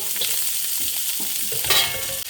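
Onion frying in oil for hibachi fried rice, a dense continuous sizzle heard up close with light stirring scrapes.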